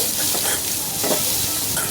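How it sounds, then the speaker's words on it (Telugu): Chopped onion and grated carrot sauté in a hot pan for a ragi-flour dosa batter, sizzling steadily up close, with a few soft scrapes of stirring. "ఉల్లిపాయ ముక్కలు తురుముకున్న క్యారెట్ వేసుకున్నాను వేసుకొని ఒక్క నిమిషం పాటు మగ్గించుకొని"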